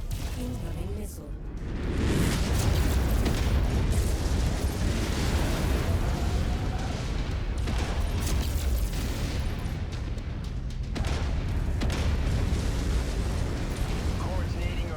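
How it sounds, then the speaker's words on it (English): Missile explosions rumble and boom almost without pause in MechWarrior 5: Mercenaries combat, loud and dense across the whole stretch, with whooshes among the blasts and a voice speaking over the battle. "Incoming missile."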